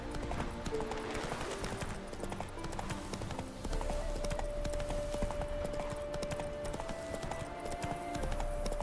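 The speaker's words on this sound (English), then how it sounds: "We're gonna do some horse racing." Rapid hoofbeats of a horse galloping in a horse race in The Witcher 3, a continuous clip-clop drumming under game music and ambience, steady and moderately close.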